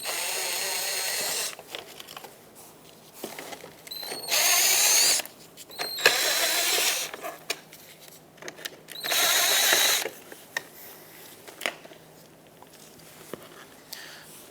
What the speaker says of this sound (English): there are some Phillips head screws that we have to remove